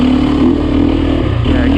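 Sherco dirt bike engine on a demo ride, a loud, steady motor drone with a brief rise in revs near the end, under someone talking.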